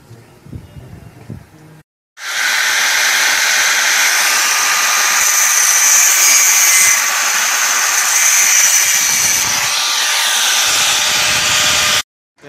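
Angle grinder with a worn cutting disc scoring and slicing through metal sheet for a napkin holder, a loud sustained high-pitched grinding whine running about ten seconds after a short quiet start, then cutting off abruptly.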